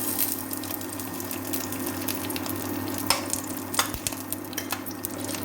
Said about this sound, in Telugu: ఆవాలు, కొంచెం శనగపప్పు, మినప్పప్పు ఇవి వేయించుకోవాలి ఒక 5 నిమిషాలు